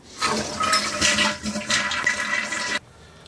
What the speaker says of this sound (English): flush the toilet to empty the water out